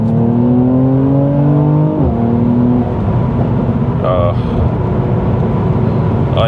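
Mercedes C43 AMG in Sport Plus mode with its sport exhaust open, engine climbing through the revs and shifting up, loud and close from inside the car, with a voice briefly calling out over it.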